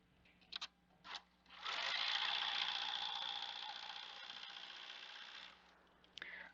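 Sewing machine backstitching at a higher speed, a few short stitching bursts followed by a sustained fast whirring run of about four seconds, close and clear, then stopping.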